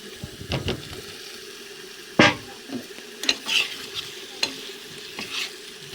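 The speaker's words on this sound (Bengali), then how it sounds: "আলুটাকে দিয়ে এবার ভালোভাবে কিছুক্ষণ সময় কষিয়ে নিতে হবে।" Boiled potatoes are stirred through a spice masala for egg curry in a hot pan. A soft sizzle runs underneath, broken by scraping strokes and occasional sharp spatula knocks against the pan.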